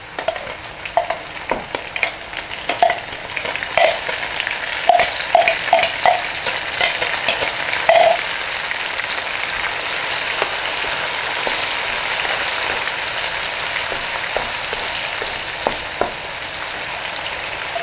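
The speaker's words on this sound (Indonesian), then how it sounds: "Saya tumis bawang merah." Shallots, garlic and a ground spice paste sauté in hot oil, giving a steady, close sizzle with intermittent clinks and scrapes of stirring during the first half, then a smoother, continuous frying hiss.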